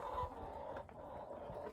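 Chickens and roosters clucking softly while feeding, with scattered low pecking and scratching sounds in a steady farmyard background.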